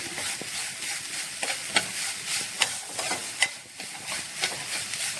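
Grated coconut and sugar are lightly sautéed in ghee in a non-stick pan for a stuffed banana filling. A soft, faint sizzle sits under repeated sharp clicks and scrapes of stirring, irregular and close.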